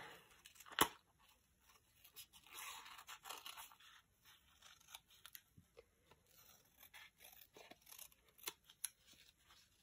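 Scissors snip paper for fussy cutting in a junk journal, with a sharp crisp cut near the start followed by quieter irregular snips and paper rustles, close and soft.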